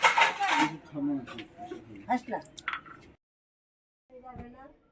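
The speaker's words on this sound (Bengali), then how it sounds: "আমি বাসন কটা ধুয়ে দিচ্ছি" Dishes being washed clink and clatter in light, scattered knocks beneath someone talking, followed by a pause and a final short clatter.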